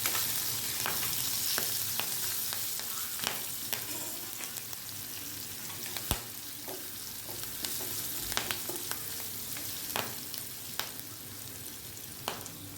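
Chopped green chillies and curry leaves sizzle in hot oil in a pan while being stirred for a poha bateta dish, with a steady soft frying hiss broken by regular scraping clicks of the spoon.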